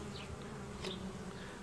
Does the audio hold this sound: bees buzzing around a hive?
yes